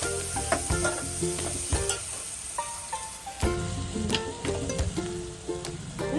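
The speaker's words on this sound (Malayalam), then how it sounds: "പച്ചമുളക്, കറിവേപ്പില ഇട്ട് കൊടുക്കാം. പച്ചമണം മാറുന്ന വരെ ഒന്ന് ഇളക്കി കൊടുക്കാം." Green chillies and curry leaves sizzle in hot oil with garlic and ginger while being stirred in a pan, steady close frying hiss with frequent clinks and scrapes of a spoon against the pan.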